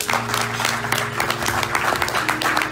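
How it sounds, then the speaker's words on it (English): A crowd at a New York City political campaign fundraiser applauds, with steady, brisk clapping and a faint tonal hum underneath. "I think that deserves a round of applause"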